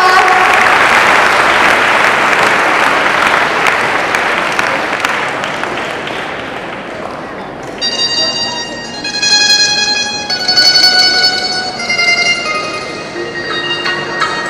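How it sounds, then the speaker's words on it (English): Applause from an audience at an International Dance Day event after a Punjabi Bhangra performance, a loud dense wash of clapping for several seconds that thins as music with sustained tones begins underneath and takes over. "We clap for her."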